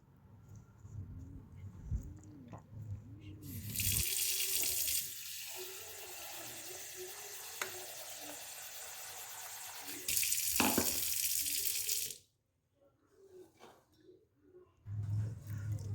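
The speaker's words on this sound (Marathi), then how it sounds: "तर ही भादली आता आपल्याला स्वच्छ 2-3 पाण्याने वॉश करून घ्यायची आहे" Peeled bhadli grain being washed in water: tap or pouring water runs in two loud, sustained bursts with sloshing between, then a pause and a renewed splash at the end.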